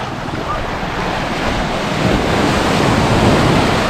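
Large ocean waves roll and crash onto a sandy shore in a continuous loud roar, mixed with heavy wind buffeting the microphone, no voices.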